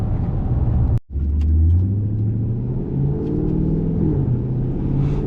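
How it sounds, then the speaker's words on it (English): A loud straight-piped car engine with a Borla exhaust idles while warming up, a deep, throaty rumble, its pitch rising and settling slightly as it runs close by, with a brief cutout near the start. "I gotta let the car warm up a little longer before I can start to press on the gas"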